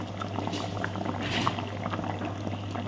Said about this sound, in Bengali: মশলার ঝোল ফুটে উঠেছে, এবার এগুলো বাঁধাকপিগুলো ছেড়ে দিই